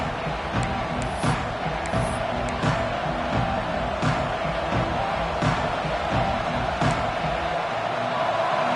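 Dense, steady roar of a stadium crowd at a football game, loud and continuous throughout with occasional sharp thumps and shouts rising out of the din.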